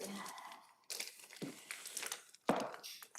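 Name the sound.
opening a well-taped cardboard box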